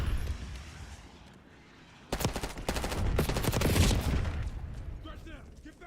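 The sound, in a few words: Archangel weapon firing in the video game Doom The Dark Ages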